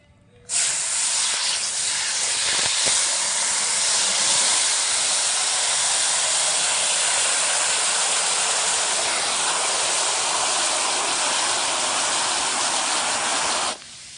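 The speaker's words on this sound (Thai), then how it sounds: "เติมน้ำลงไป พอท่วมปลานะคะ" Water pours in a strong, steady stream into a pot of salted water to cover mackerel, making a loud continuous rushing hiss that runs unbroken for about thirteen seconds before stopping abruptly.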